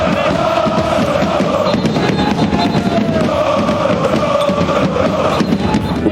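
Paris Saint-Germain supporters celebrating in the street outside the Parc des Princes stadium make a dense, loud, continuous roar of crowd voices and chanting with no break.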